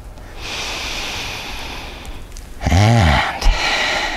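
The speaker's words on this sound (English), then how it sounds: "And take a resting breath." During a yoga session a person takes a slow resting breath, a soft airy exhale followed by a louder, voiced nasal inhale-exhale, close and clear.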